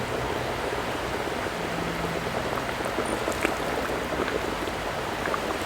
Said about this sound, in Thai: น้ำเดือดเลยจ้ะ